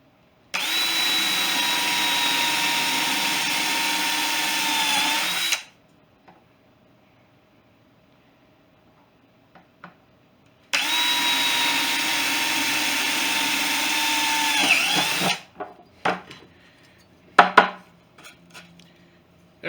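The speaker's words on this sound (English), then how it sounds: "We have our holes drilled on both sides." Power drill boring holes through a part clamped in a vise: two steady, loud, close drilling runs of about five seconds each separated by quiet, followed by clinks and handling knocks.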